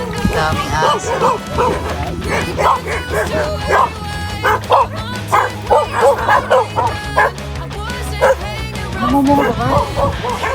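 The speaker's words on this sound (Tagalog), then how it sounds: "Daming aso." Several dogs bark and yip repeatedly in overlapping bursts, some whimpering, while people talk nearby at a rural fishpond in Paombong, Bulacan.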